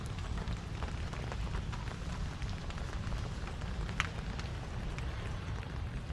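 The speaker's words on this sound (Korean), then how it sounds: "이렇게 비가 올 때" Rain falls outdoors at a campsite, a steady soft patter of drops on surfaces with a low rumble beneath and a few sharper taps, fairly faint and with no voices.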